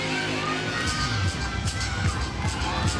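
A sold-out crowd cheering at a gymnastics meet in Stokely Coliseum, a loud, continuous roar of many voices with shrill shouts and whistles rising throughout.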